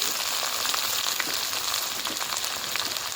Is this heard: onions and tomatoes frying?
yes